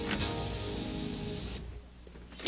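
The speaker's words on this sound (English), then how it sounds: "carefully hold the can upside down and spray for about 5 seconds onto a rag or" A spray paint can held upside down is sprayed onto a rag or newspaper to clear its nozzle, giving a steady close hiss that stops abruptly partway through, followed by quiet.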